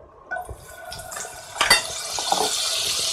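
Butter and oil hit a hot wok over medium heat, with a few light clinks before a bright, steady sizzle swells up and holds, loud and close.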